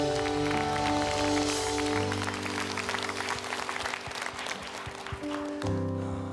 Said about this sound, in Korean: 우리 다시 한번 주님께 감사의 박수 올려드립니다